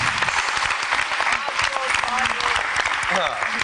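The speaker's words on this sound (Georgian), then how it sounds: "გავაცილოთ ქორეოგრაფი, გავაცილოთ კარგი ტაში" A television studio audience applauds a departing choreographer, loud sustained clapping close by, with a voice speaking over it.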